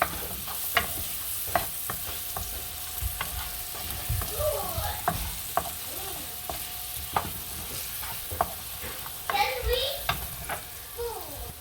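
Curry powder frying and sizzling in a pot for Jamaican curry shrimp, with a steady hiss and repeated sharp scrapes and clanks of stirring, plus faint chirpy background sounds.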